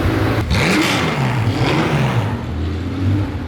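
A 1970 Porsche 914-6 with a 2.2-liter flat-six engine revving up close, loud throaty sweeps rising and falling over a few seconds.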